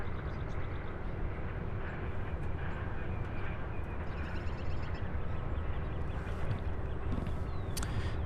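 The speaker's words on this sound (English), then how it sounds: "This is the Southwest flight out of Orlando, Southwest flight 783, a 9-year-old 737-800 series" A nine-year-old Southwest Boeing 737-800 departing Louisville gives a dense, steady jet roar near at hand, with scattered light clicks and rattles late on and no talk.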